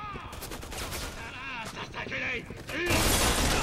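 Enemy gunfire rattles through a Resident Evil 6 combat scene, with bursts of rapid shots and impacts over a steady roar of game noise that swells loud near the end, and voices talking in the game.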